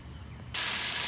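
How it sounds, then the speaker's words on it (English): A water spray suddenly bursts on and hisses loudly and steadily while soaking the backfilled soil around a post for a raised koi pond. A low rumbling background comes before it. "So it's a real good idea to spray water down whenever you have to backfill a post."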